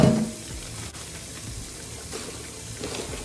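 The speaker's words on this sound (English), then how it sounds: "So we're gonna rinse those with some warm water." Warm tap water runs steadily over green beans being rinsed, a soft continuous splashing hiss at low level with no talk.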